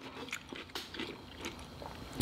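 Close, crisp crunching bites and chewing of a fresh cucumber at a seafood boil meal, several quick wet crunches in a row with no talk.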